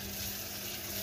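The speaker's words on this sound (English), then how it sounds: "So I'm rinsing her off, get the dirt off of her" Water rinsing over a bearded dragon, a steady close splashing hiss of running water that continues unbroken, with no voices.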